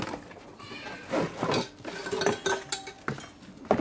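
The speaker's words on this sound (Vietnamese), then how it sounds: "Thì đây là một chiếc nồi chiên" A Japanese-made nonstick frying pot with a drip tray is handled nearby, its metal parts clinking and clattering in short, uneven knocks and scrapes, with no talking.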